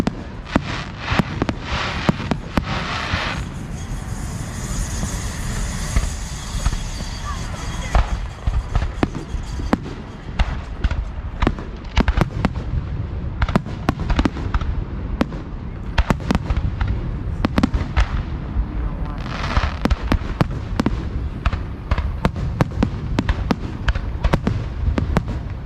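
Canada Day fireworks in Ottawa explode extremely close, a dense, loud barrage of sharp bangs and crackling bursts in rapid, irregular succession, with a few voices faintly underneath.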